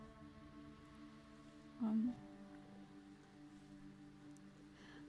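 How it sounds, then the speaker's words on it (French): Light rain falls steadily outdoors with a soft, even patter that continues throughout, and a single spoken word briefly rises above it. "Oui, ça pleut un peu sur le stream."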